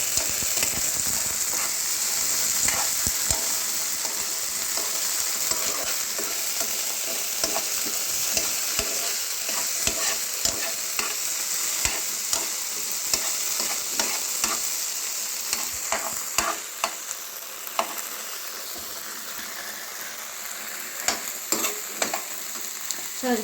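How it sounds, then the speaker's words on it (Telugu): Sauce being stirred into frying soya chunks (meal maker 65) in a pan: a steady loud sizzle runs throughout, with frequent scraping stirs and clicks of the spoon, no talking. "సాస్ వేసి ఒక 1 minute ఇది కలపాలి నీట్గా."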